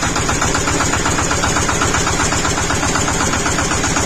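A Shifeng 240/244 tractor engine runs at light throttle just above idle, a steady, rapid mechanical chug with even pulsing and no voices.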